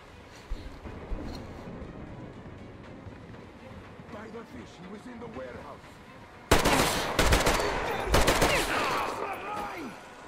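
Bursts of machine gun fire in Metro Exodus, loud rapid volleys starting partway through after quieter movement and ambient sounds, with someone talking over parts.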